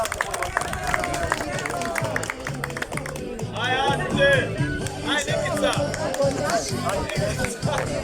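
Crowd at a local folk gathering in Grude claps along, a dense patter of hands over steady murmur and shouting voices, with a regular thumping beat underneath.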